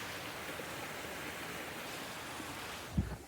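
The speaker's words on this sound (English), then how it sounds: "look at the creek, guys." A steady, broad rush of flowing creek water, even and continuous, with a brief bump of handling noise near the end.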